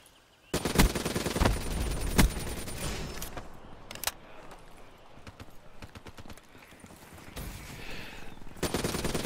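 Rapid-fire gun shooting in a first-person shooter video game, with loud dense bursts of automatic fire separated by brief pauses and scattered single shots, near and harsh throughout.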